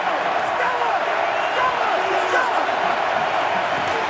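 A stadium crowd at an NFL football game between the Falcons and Ravens gives off a loud, continuous roar of many voices, with a commentator talking over it.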